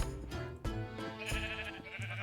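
Sheep bleating in the video game Minecraft, a few short bleats repeating over a busy musical game background, loud and close.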